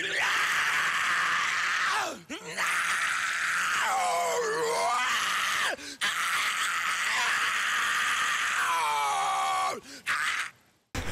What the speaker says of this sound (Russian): слышите, как орет фрик.